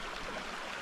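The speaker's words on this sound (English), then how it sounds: "just right beyond this stream of water" A small mountain stream in the Lake District near Red Tarn on the way up Helvellyn rushes with a steady, close, hissing flow for under a second, with no voices.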